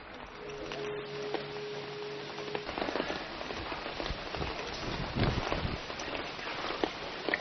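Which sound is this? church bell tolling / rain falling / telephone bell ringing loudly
rain falling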